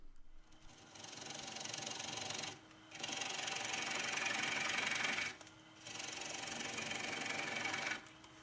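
A wood lathe rough-turns a green birch bowl with a dense, close grinding and tearing hum, broken by two short drops near three and five and a half seconds before cutting resumes. No speech is heard.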